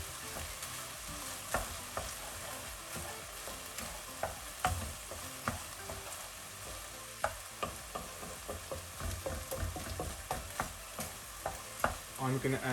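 Food fries in a pan over medium heat with a splash of stock, a faint continuous sizzle under frequent soft scrapes and taps of a utensil stirring throughout.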